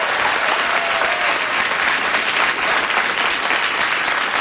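A late-night TV talk show studio audience applauds loudly and steadily, a dense continuous wash of clapping with no talking over it.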